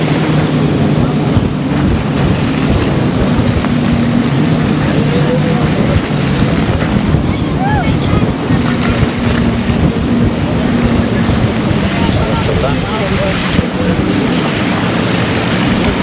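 A banana boat ride over Black Sea waves at Vityazevo makes a loud, continuous roar of wind buffeting, rushing water and a towing motor, steady for the whole stretch.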